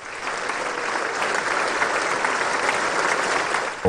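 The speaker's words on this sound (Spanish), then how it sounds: "Ovación de pie en el Congreso, ¿no?, para el primer ministro de la India, Narendra Modi" A dense, sustained standing ovation fills the US Congress chamber for Indian Prime Minister Narendra Modi's address, loud, continuous clapping from a large crowd with no break.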